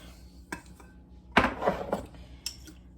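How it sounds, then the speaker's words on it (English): Utensil clinking and scraping in a bowl while homemade BBQ sauce ingredients are mixed, a few sharp taps and a louder clatter in the middle, close and otherwise quiet. "Now I'm going to go ahead and mix in the other ingredients."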